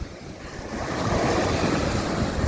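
Sea waves and surf roll onto Langeron beach in Odesa, a broad, steady rushing wash that swells slightly louder, mixed with wind noise on the microphone and no talking.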